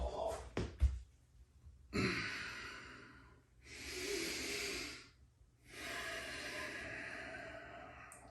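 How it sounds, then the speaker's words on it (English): Slow, deep breaths during a morning stretching and exercise session, three long airy inhales and exhales in a row after a brief soft thump, close and fairly quiet with pauses between. "Breathing in real big and deep."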